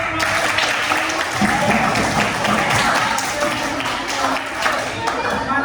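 A classroom of students claps for a group presentation, a loud, somewhat uneven burst of applause with voices mixed in throughout.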